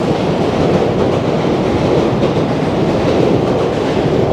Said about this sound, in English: You can see the JR train passing by right up over there.